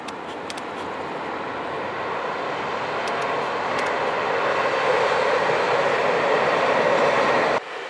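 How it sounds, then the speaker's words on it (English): A train rolls past at a rail line in Hokkaido, a steady broad rumble and rushing wheel noise that swells slightly as it nears, with a few faint squeals early on, then cuts off abruptly near the end. "Train came by roughly every 5 to 8 minutes while I was there."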